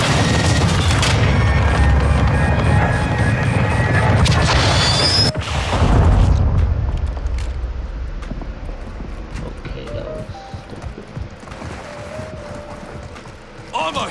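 Close air support strike in the video game Modern Warfare 2, with loud, sustained rumbling blasts and crashes, then a big boom that fades into a long, lower debris-filled tail of scattered impacts.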